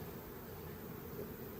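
Honey bees drone around a hive of comb honey boxes, a continuous close buzzing that holds steady and fills the whole moment.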